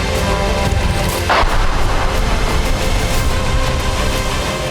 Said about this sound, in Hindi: रिपोर्ट के मुताबिक यहां ड्रोन से धमाका हुआ